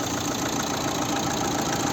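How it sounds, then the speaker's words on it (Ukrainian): A 2012 Opel Zafira 1.7 diesel engine idles steadily, an even low mechanical hum with a faint regular knock, close by and uninterrupted. "Ось робота двигуна."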